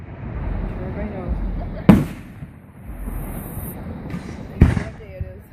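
Fireworks going off very close during a Remus Days celebration, two loud, sharp blasts a few seconds apart cutting over a crowd of people chatting nearby.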